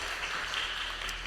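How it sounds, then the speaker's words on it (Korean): A church congregation at a Sunday service applauds one another in blessing, a brief continuous wash of many hands clapping together at moderate distance. "옆에 있는 분들에게 서로 축복의 박수를 한번 쳐드리면 좋겠습니다"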